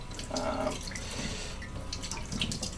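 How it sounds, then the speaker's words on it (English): Water pours from the spigot of a plastic homebrew bucket to sanitize it, making a faint, steady splashing and trickling with a few brief gurgles. "just by opening it up and letting the water pour out of it"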